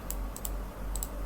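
A handful of light keystrokes on a computer keyboard, clicking in two small pairs over a low steady room hum, close and with no speech.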